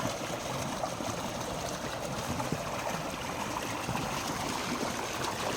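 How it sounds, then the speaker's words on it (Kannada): Water flows down an irrigation canal fed from the Tungabhadra dam, making a steady, close rushing and gurgling wash that never lets up and carries no voices. "ನೀರು ಈ ರೀತಿ ಬರ್ತಾ ಇದೆ ನೋಡಿರಿ ಎಚ್ ಎಲ್ ತುಂಗಭದ್ರ ಡ್ಯಾಮ್ ನೀರು"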